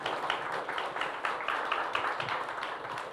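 An audience claps for two speakers at the close of a lecture session at a cultural academy. The applause is moderately distant and fairly soft, made of a continuous patter of many hands with scattered sharper claps.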